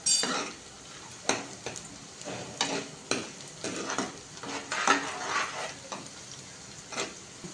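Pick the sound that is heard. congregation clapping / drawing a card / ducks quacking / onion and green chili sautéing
onion and green chili sautéing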